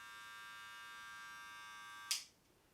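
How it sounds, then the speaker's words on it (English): Wahl Cordless Senior hair clippers switch on and run with a steady, faint high-pitched electric buzz for about two seconds, ending in a brief sharp click as they shut off. "Let's quickly turn these on. So firstly, the Wahl Cordless Seniors."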